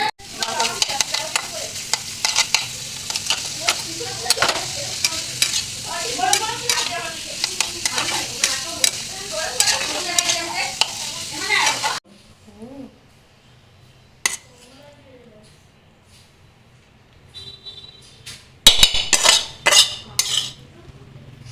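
Kebab frying in a pan at home, with steady close sizzling and stirring plus clinks of utensils against the pan for about twelve seconds. A quieter stretch follows, then a few sharp metallic clinks near the end.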